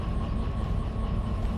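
Train slowing to a stop in the Derail Valley railway simulator, a steady loud rumble of the engine and rolling wheels with a faint tonal whine above, continuous throughout with no talk.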